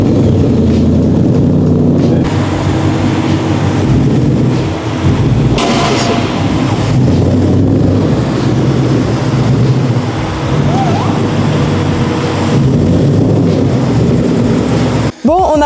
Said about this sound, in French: allez, on sort l'auto.